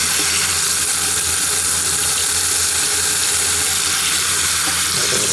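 Steady rushing and gurgling of water pouring into a Panda portable washing machine, a continuous hiss-like flow throughout with no pauses.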